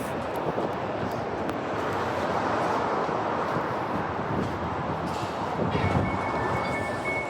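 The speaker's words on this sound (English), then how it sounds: "Oh crap, the train's here." A train rumbles into a station with a broad, steady roar of wheels on track, growing slightly louder, with faint high squeals near the end.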